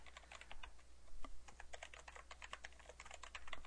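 Rapid typing on a new computer keyboard, a steady run of close, crisp key clicks with uneven rhythm over a low constant hum, no voices.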